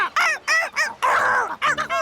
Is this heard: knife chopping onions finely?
no